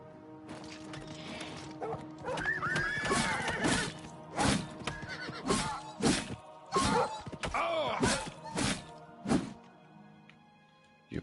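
A horse in the video game Oblivion Remastered neighs and whinnies repeatedly amid combat, with loud thuds, hoof clatter and sharp impact sounds in a busy, rhythmic sequence.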